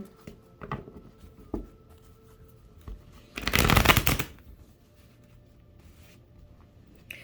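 Tarot cards being handled, with a few soft taps and slides, then a dense riffling burst of shuffling in the middle before quiet handling resumes.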